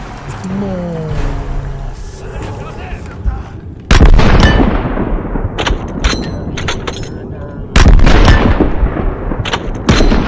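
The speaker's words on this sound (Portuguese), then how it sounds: "Eu pisei numa armadilha ali, uma armadilha de bomba." Bomb trap explosions in Call of Duty Vanguard, two heavy booming blasts a few seconds apart, loud and close, each followed by rumbling debris and gunfire, with someone talking over the action.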